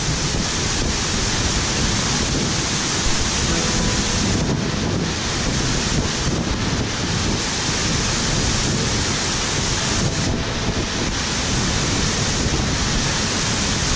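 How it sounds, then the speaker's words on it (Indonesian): Strong wind roars and gusts loudly against the microphone during an expedition in Bogani Nani Wartabone National Park, blending with rushing water in a dense, unbroken wash that swells and dips without any voices. "Angin tambah kuat Rifan."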